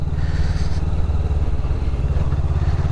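A 2024 Honda CBR500R motorcycle engine pulls strongly through the gears, a loud, close, steady drone with a slight dip in pitch as it shifts.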